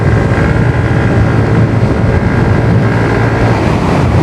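A Yamaha Aerox scooter's engine drones steadily while riding along a tree-lined road to Mount Samat Shrine, a constant close hum blended with heavy wind rush against the microphone, with no talk.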